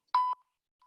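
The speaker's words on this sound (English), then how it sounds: "ignore that beep because I just restarted my timer" A workout timer gives a single short electronic beep, clear and close, followed by silence and a faint second blip near the end.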